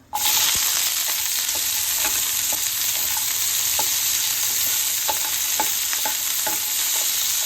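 Sliced onions and dried red chillies sizzle loudly in hot oil in a pan for prawn chammanthi, a steady hiss broken by regular clinks of a spoon stirring.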